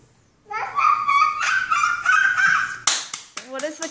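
A toddler's voice makes a series of high, squeaky barking-like cries in imitation of a dog, with an adult voice briefly joining at the end.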